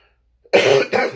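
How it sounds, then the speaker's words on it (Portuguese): A single close, harsh cough in two quick bursts, the second slightly weaker, after a brief silence. "tô com um pouco de tosse"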